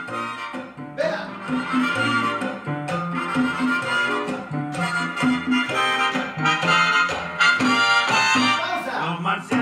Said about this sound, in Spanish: Ok, ahora vean, vamos a poner el sonido de cha-cha-cha y más o menos suena así.